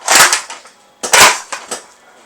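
A cartridge-firing toy blaster goes off in sharp, loud bursts: two main cracks about a second apart, each followed by a smaller rattling snap, close to the listener and alone.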